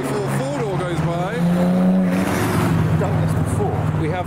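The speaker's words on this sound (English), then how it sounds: "as the R34 four-door goes by." A Nissan Skyline R34 four-door car passes nearby at a car show, its steady engine drone rising and holding under continuous conversation.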